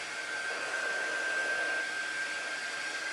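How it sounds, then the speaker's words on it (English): A small warm-air craft dryer, a gentle heat tool rather than a hot blow dryer, blows steadily at close range with a constant airy whoosh and a faint whine, with no talking. "just take your little air dryer"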